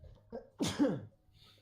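One quick sneeze, fairly faint, comes after a small intake of breath, with quiet room noise around it.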